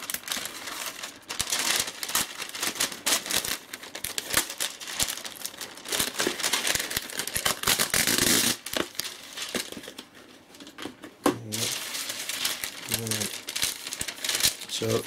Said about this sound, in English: No, can't even rip the paper